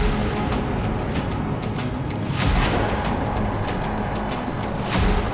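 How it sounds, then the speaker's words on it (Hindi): Explosion in an open field area in Saratov, heard as a sustained loud low rumbling roar with two deeper booming surges partway through. "सारातोव के एक मैदानी इलाके में विस्फोट की आवाज आई"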